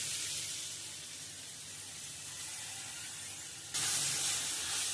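Grated raw mango sautéing in a pan for mango pachadi, a steady close hiss and sizzle that grows slightly louder toward the end.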